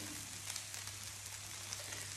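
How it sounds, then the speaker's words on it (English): Sweet pepper pieces frying in olive oil in a paella pan give a soft, steady sizzle and crackle at moderate distance, continuous and quiet with no talking. "I will start to fry sweet pepper here"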